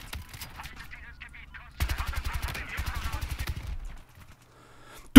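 Rapid automatic gunfire in the multiplayer shooter Battlefield Hardline, with bursts that start abruptly and rattle in a steady fast rhythm for about two seconds, set over a low earlier clatter of game noise.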